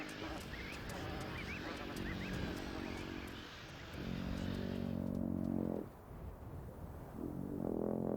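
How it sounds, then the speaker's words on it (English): Bar-headed geese call in the Himalayas, with repeated honking clusters in several bursts, fairly near and loud over a steady background. "Bar-headed geese always nest by water for food, but also to escape the hardy Tibetan wolf."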